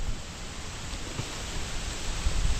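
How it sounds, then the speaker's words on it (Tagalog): Rain falls outdoors in an area where jackfruit is being harvested, a dense, even hiss of drops with low rumbling thumps near the end, loud and continuous with no voices. "may kasama pang ulan"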